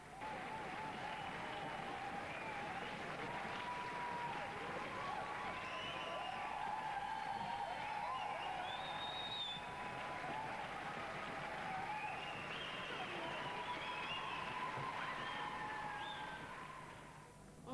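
A European-premiere audience applauds and cheers after the show, with steady dense clapping and shouting sustained throughout and fading slightly at the end.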